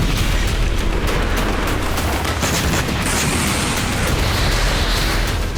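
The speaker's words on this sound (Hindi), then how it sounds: "यह कुर्स्क का वीडियो है जहां यूक्रेन ने आस्म 250 हैमर बम से हमला किया।" Heavy bomb blast from an AASM-250 Hammer strike on a Russian military position in Kursk amid war, a dense continuous rumble and roar filling the whole stretch, loud and sustained with no voices.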